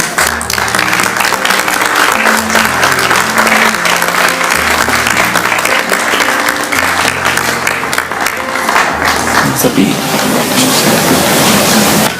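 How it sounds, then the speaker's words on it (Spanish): A strong round of audience applause welcomes Padre Francisco to a pastoral round-table event, loud, continuous clapping over steady low music throughout. "Recibimos con un fuerte aplauso"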